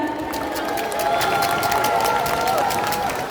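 Applause and crowd noise fill a Democratic Party convention hall in Iksan, Jeonbuk, for candidate Kim Byung-joo, a continuous roar of clapping and cheering with a faint tonal hum running underneath.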